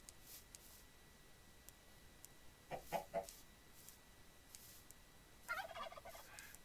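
Turkey in the Minecraft MC Eternal modpack, two short faint clucking bursts a few seconds apart against quiet background hiss.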